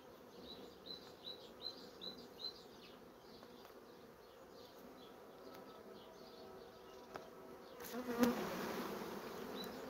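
A steady, faint hum of many honeybees buzzing as they are shaken off brood comb, with a soft chirp repeating early on and a louder rustle near the end.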